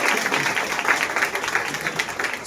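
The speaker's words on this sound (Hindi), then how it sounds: "क्यों ना हम लोग फिर से तीनों के लिए ताली बजाएं।" A church congregation at a Christmas service applauds after a dance, a dense sustained wash of many hands clapping together at moderate loudness, filling the room.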